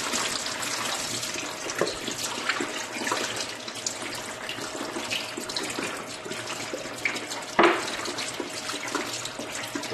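Cloudy salty brine poured off home-fermented cucumbers in a plastic bottle, a continuous splashing trickle of liquid with one louder gush near the end.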